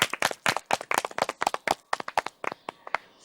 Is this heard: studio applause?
yes